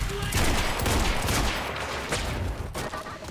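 Rapid, loud gunfire from a sniper rifle and other weapons in the video game Quantum Break, a dense barrage of shots running continuously through the clip with dense, overlapping shots.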